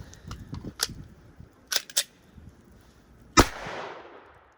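Faint clicks and light metallic handling noises precede a single sharp, close pistol shot from a Glock 19 or PSA Dagger that rings out briefly before fading.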